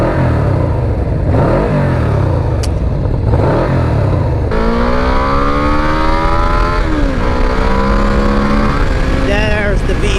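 Yamaha VMAX motorcycle accelerates hard from close range, its engine note climbing through the revs and surging as the V-boost engages, with a rider talking over the roar.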